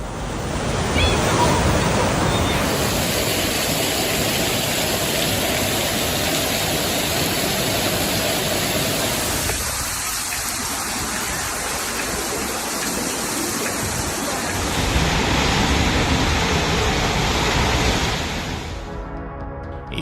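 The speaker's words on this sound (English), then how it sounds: "The floodwaters submerged main roads in water" Floodwater in the United States rushes in a loud, continuous roar, steady throughout with a wind-like hiss and surging texture.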